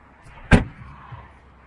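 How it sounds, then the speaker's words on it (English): A single door slams shut with one sharp, fairly close bang, followed by a couple of faint low thuds in an otherwise quiet setting. "Stop slamming the doors, buddy."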